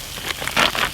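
Meat browning in a pan at a free campsite in Sunny Corner State Forest, a close, crackling sizzle with rain-like patter that swells in brief bursts, no talk.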